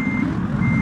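A steady, loud truck reversing alarm beeps continuously over engine rumble while a container truck backs up on an Indonesian city route in Euro Truck Simulator 2.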